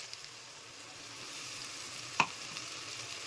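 Tomato paste fries in spiced oil with a soft, steady sizzle at low level, marked by one sharp stirring clack midway.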